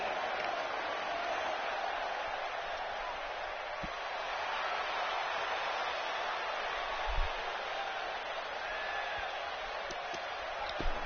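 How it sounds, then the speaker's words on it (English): Animated crowd in an Orlando arena at a wrestling event: a steady, broad wash of cheering and murmuring voices that holds at a constant level throughout, with a few faint thumps and no clear announcer speech. "We've got an animated crowd here tonight"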